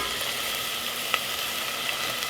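Onions and carrots sautéing in olive oil in a pot for pasta fagioli make a steady, moderate sizzle, with one brief clink partway through.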